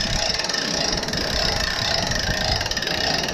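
A hand crank ratchet winds a homemade crane, giving a steady, fast mechanical clicking and whirring that runs continuously and evenly at close range.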